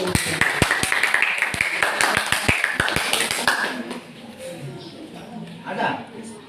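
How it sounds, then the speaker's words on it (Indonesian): A small group claps after a class group presentation, giving a short burst of sparse, uneven claps that thins out after a few seconds, then voices murmur nearby. "Kita aplaus dulu"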